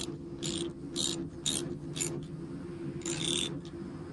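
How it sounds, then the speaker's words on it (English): Ratchet wrench retightening the bolt of a split bolt connector on an ElectroBraid fence line, giving bursts of quick metallic clicks in uneven strokes, close and clear over a steady low hum. "Take out the slack and retighten the bolt"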